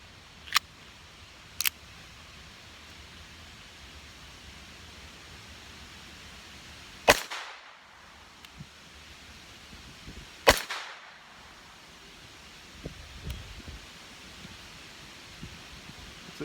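A 2nd generation Walther P22 fires CCI Mini-Mag rounds, a few sharp, isolated cracks spread across a quiet stretch, two of them louder with a brief decaying tail, others fainter and clipped.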